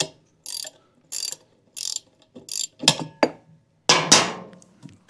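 Repeated short metallic clicks and gritty threaded scraping as the regulator fitting is turned out by hand on a Porter Cable C2002 six-gallon air compressor, coming in rhythmic bursts with brief pauses, close and fairly loud.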